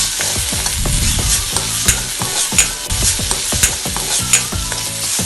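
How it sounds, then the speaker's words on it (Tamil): Masala with chili powder and salt sautéing for fish egg thokku: a loud, close sizzle under rapid, rhythmic scraping and clattering of a spoon against the pan, continuous throughout with no voices. "இதையும் போட்டு நல்லா வதக்கிக்கோங்க"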